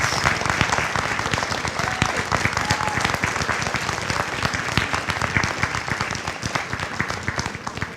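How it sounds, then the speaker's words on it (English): A commencement crowd applauds recognized graduate groups, with dense, loud clapping that holds a steady level for the whole stretch and only tapers slightly toward the end. "Let's give them a round of applause."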